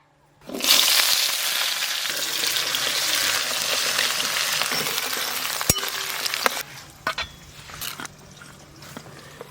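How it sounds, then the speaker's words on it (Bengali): Onions fry hard in a pan for a Kadaknath chicken curry, a loud sizzle that bursts in suddenly and holds steady, then eases off toward the end with a few stirring clicks and drips. "মুড়ি পেঁয়াজগুলো একটু বেশ ভালো করে ভাজা ভাজা করে নিয়েছি"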